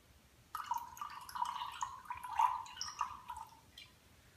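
Raw apple cider vinegar is poured into a homemade fitness drink, making a faint, close trickle and gurgle of liquid lasting about three seconds, with no voices.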